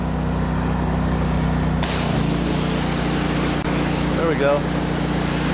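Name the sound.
pressure washer wand spraying water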